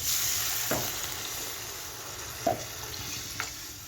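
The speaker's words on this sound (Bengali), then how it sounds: "ঝুলটা দিয়ে দিই" Small fish curry steadily sizzling and frying in a pan as gravy is added, with a few soft splashy pops rising briefly above the constant hiss.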